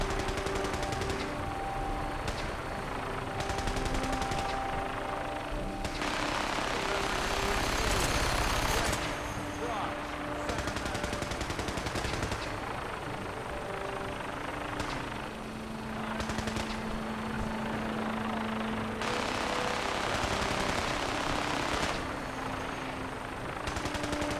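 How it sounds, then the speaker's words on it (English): Sustained gunfire in the video game Fallout 4, with a helicopter-like engine drone underneath, near and steady throughout as bursts and shots overlap with rumbling machinery. "There's a lot of gunfire going on."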